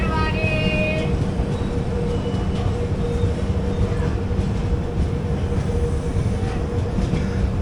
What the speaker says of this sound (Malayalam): ഈ ട്രെയിൻ ഫലക്നുമ എക്സ്പ്രസ് ആണ്.